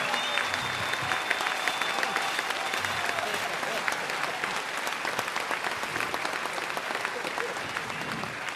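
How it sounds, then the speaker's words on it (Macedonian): Audience applause for the orchestra at a folk music concert during the Ilinden Days festival, a dense, steady wash of many hands clapping that holds loud and even throughout with no voices over it. "Најголемиот аплауз за оркестарот, молим."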